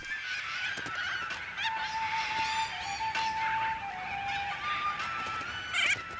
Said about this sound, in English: In small doses, little corellas are a delightful and entertaining bird.